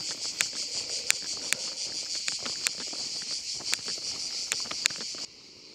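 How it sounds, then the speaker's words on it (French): Cicadas buzz in a dense, continuous high drone along the GR65 pilgrimage trail to Santiago de Compostela, steady and fairly loud, with sharp clicks scattered through it until the chorus abruptly quiets near the end. "On est revenu dans les Cigales."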